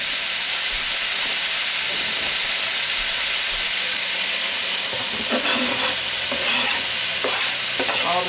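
Bell peppers and minced garlic sizzle and hiss steadily in a hot pan, with a few louder scraping stirs near the end; close and continuous, no talking.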